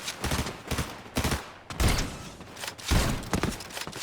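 Rapid bursts of gunfire in Fortnite, several clusters of sharp thumping shots separated by short gaps, loud and close.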